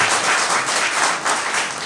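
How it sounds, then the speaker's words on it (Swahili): A meeting audience of teachers breaks into a brief burst of applause, dense overlapping hand claps swelling and dipping in loudness, close and fairly loud. "Makofi kwa mama."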